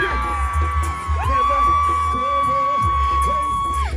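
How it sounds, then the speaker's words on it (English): Crowd at a live reggae concert in a Kingston market at night, with women screaming and cheering over amplified music; a loud, steady mass of voices and whoops runs the whole time, with a sustained sung or held tone on top. "Can I get the lady scream for me?"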